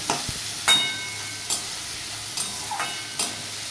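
Chopped carrots fry in a pan as they are slowly stirred: a soft, constant sizzle broken by regular scraping strokes of a spatula roughly every second.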